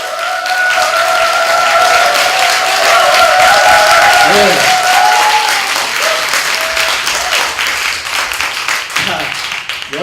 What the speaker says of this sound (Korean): 다시 한번 지금까지 수고하신 우리 최규상 대표님께 큰 박수 부탁드립니다